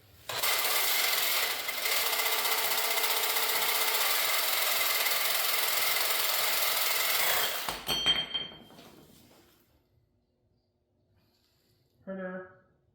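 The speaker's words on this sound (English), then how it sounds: "fine tune it with a grinder for hours" An angle grinder shaves down a Dana 60 front axle in a fabrication shop, a loud, steady broadband grinding roar for about eight seconds before it cuts off and winds down, followed by a brief clank.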